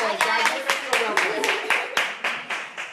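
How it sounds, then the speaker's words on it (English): A small studio audience claps briskly for a guest on an acting talk show, a quick run of distinct, evenly spaced handclaps lasting a few seconds. "Give her a round of applause."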